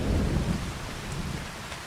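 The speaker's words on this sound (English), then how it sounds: "The hail has turned to rain." Rain falling during a storm in Farming Simulator 25, a steady loud wash of downpour with a low rumble underneath, continuous and without any voices.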